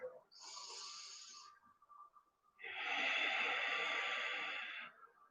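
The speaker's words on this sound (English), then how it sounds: "About three breaths, deep breaths." Deep, slow breaths during a tai chi fan exercise: a long, soft airy inhale, a brief pause, then a fuller, louder rushing exhale, close and alone.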